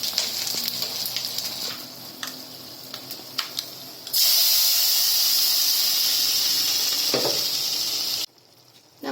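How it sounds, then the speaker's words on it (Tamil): Mustard seeds and asafoetida tempered in hot oil for tomato thokku, a steady close sizzle and hiss that swells suddenly midway, holds loud, then cuts off abruptly. "இப்போ வந்து இதுக்கு நம்ம அந்த தொக்குக்கு கடைசியாக தாளிக்க போகிறோம்"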